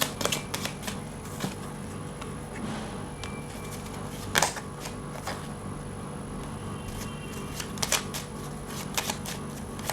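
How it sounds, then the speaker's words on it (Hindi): Tarot cards being shuffled and drawn, a quiet run of soft riffling flutters and sharper snaps and taps as cards are handled close by, with no voice over it. "कार्ड्स निकालते हैं, फिर देखते हैं हम"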